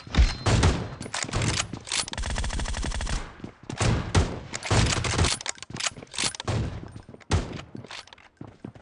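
Video game gunfire in a team match, with loud rapid bursts and sustained automatic volleys crackling close up, broken by short gaps and scattered single shots.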